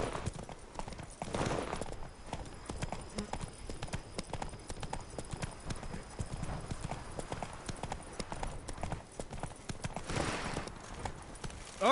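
Hooves of the horse Roach pound in a fast, rhythmic gallop throughout, loud and close, with faint voices and game ambience in the background, from The Witcher 3 video game.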